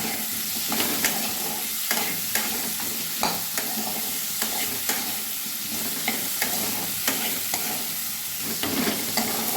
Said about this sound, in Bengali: আলুগুলো একটু ভালোভাবে আমি কষিয়ে নেবো এই সময় আমি কয়েক টুকরো টমেটো দিয়ে দিলাম